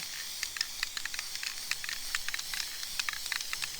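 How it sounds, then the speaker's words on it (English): Continuous spray hiss with quick bursts and short sputtering pulses, close to the listener, like an aerosol can of black paint being sprayed in brief squirts. "we're going to spray some black down up here"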